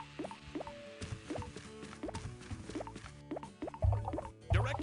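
Honey dripping into a pot in a Berenstain Bears children's video game, a series of cartoonish plopping drips falling at irregular intervals, with backing music and brighter splashy plops near the end.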